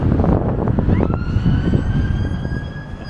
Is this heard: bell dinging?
no